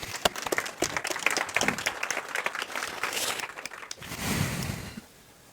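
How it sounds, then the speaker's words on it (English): Audience applause at an international policy talk, a dense burst of clapping from a seated crowd that swells, then fades out after about five seconds, with no talking over it. "There's a big round of applause for him as well."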